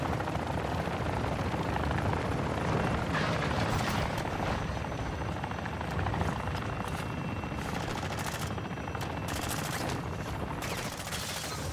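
Loud, continuous roar of an attack helicopter's rotors and engine in the video game DMZ, with rapid bursts of gunfire crackling through the din throughout.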